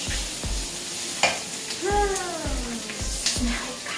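Onions sizzle and fry in a pan while being stirred for daal, showing a steady crackle broken by several sharp scraping stirs and clinks, with a brief tonal squeak partway through.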